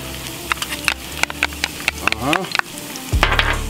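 Beef stir-frying over high heat in a hot pan, a steady close sizzle broken by sharp clatters and scrapes of the utensil, with a brief low thump near the end.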